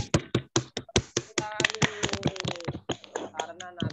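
A classroom of students gives a short burst of clapping for a classmate, a quick run of sharp individual claps that swells into overlapping group applause, with a voice speaking over the latter part.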